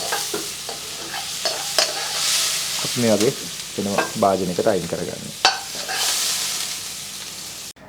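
Seafood is stir-fried on high heat in a pan, with a loud continuous sizzle and repeated scraping, tossing strokes. A voice speaks briefly over the cooking.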